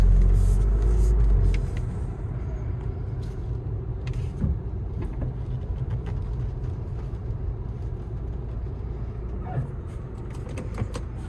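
An Audi A3 with an automatic gearbox driving, its steady engine and road rumble heard from inside the cabin, with a louder low thump at the start and then an even drone, with no talking.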